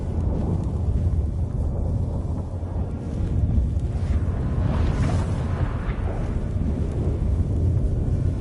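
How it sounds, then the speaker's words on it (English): A storm rages in The Witcher 3 video game, with a continuous deep rumble like rolling thunder and gusting wind that holds steady and loud throughout, briefly swelling in the middle. "That a storm?"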